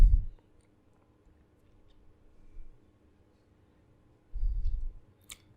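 Computer mouse clicks come in short, close, soft taps: one at the start, a faint one midway, and a cluster near the end, separated by near silence.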